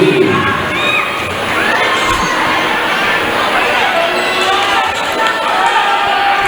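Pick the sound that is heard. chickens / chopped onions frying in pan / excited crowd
excited crowd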